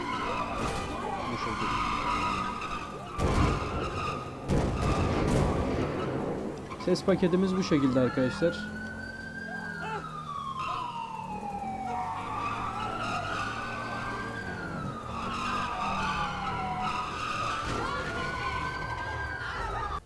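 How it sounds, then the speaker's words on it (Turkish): Car tires screech and skid through drifting in a FiveM video game sound pack, long rising and falling squeals sweeping loud and continuous with engine roar beneath, a few sharp bursts early, and someone talking briefly over the start. "Böyle de teker sesleri, drift sesleri."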